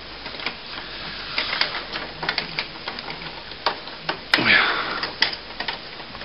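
Plastic clicks, rattles and fiddling as a print head is clipped into a Canon MP610 printer, a close series of sharp snaps with one louder scrape near the end.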